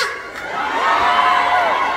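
A crowd at a fiesta in South Korea cheering and shouting, sustained and moderately loud, with higher voices whooping above the mass of noise.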